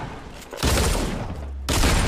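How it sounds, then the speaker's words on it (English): Shotgun blasts in the Fortnite battle royale video game: two loud, booming shots about a second apart, each with a short rumbling tail, and no talking. "This guy's shotgun in front of me."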